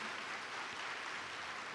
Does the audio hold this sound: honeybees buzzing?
no